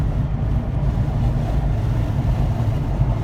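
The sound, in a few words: Honda Civic hatchback Sport driving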